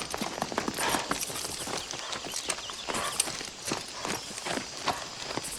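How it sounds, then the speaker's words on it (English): A horse ridden in a film scene from The Color Purple clip-clops along, its hooves striking in a quick, uneven rhythm of sharp taps over a steady background, moderately close and without speech. "as he's riding this horse"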